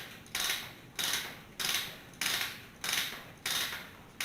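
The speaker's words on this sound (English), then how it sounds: "we have a reamer here, and we're going to take and ream that ridge off of inside that conduit" A ratcheting reamer clears the inner ridge of rigid steel conduit, giving six evenly spaced rasping strokes about every half second, each a scraping grind with a clicking ratchet return, close and fairly quiet.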